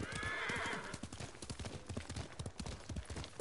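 A horse in the video game Ghost of Tsushima, opening with a loud neigh, then steady clip-clop hoofbeats at a brisk trotting rhythm, close and clear.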